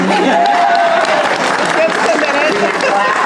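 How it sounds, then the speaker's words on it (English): An audience claps and cheers during a curator's walk-through of an art exhibition, continuous loud applause with voices calling out over it. "You can stand clap."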